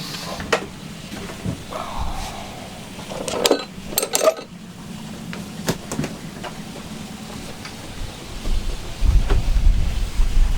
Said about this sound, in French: On a un peu de vent aujourd'hui